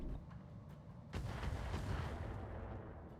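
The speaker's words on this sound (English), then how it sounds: "Mortars" A mortar fires once in the Roguetech mech strategy game, a single deep boom that rolls on for a moment after a quiet lead-in.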